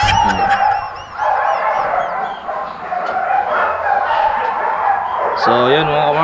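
A dog barks noisily in repeated yaps and woofs, close and loud, with high whining and bird-like calls mixed in and voices at the edges.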